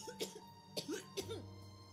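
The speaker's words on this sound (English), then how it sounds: "Becca starts coughing heavily." A woman character in the video game The Letter coughs heavily, three or four harsh, close coughs with voiced rasps between them, followed by a steady low hum.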